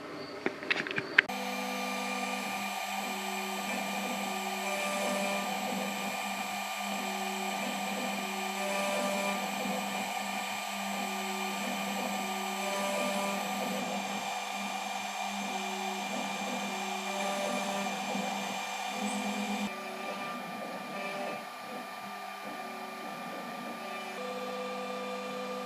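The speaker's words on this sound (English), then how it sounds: "And I'm going to put the bit back in the spindle and get going." A Ponder Labs Saturn 2 4x4 CNC router spindle cutting, giving a steady high whine with regular pulsing passes that continues for the whole stretch, close and unbroken, with no talking.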